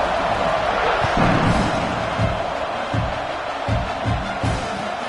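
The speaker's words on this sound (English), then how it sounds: "this crowd is buzzing after that last score" Stadium crowd at a college football game in Arkansas, a steady loud buzz of many voices just before a kickoff, with low thumps and swells running through the continuous roar.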